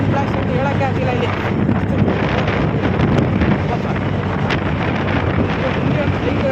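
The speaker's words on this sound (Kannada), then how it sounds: "ವಿಂಡ್ ಬ್ಲಾಸ್ಟ್ ಅಂತ ಸರಿಯಾಗಿ ಬರ್ತಾಯಿದೆ." Steady, loud wind blast roars across the microphone while riding a TVS Ntorq 125 scooter, a dense continuous rush without a break.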